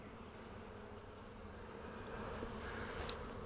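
Honey bees, drones among them, hum steadily around an open backyard hive during a transfer from a nuc box into a ten-frame hive, a soft, continuous drone that swells slightly toward the end.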